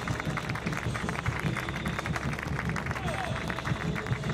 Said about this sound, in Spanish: Aplaudiment des de la grada